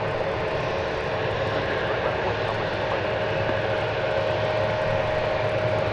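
American airliner taking off from DFW Airport, a loud, continuous engine roar with a steady low drone and broad hiss that holds for the whole stretch.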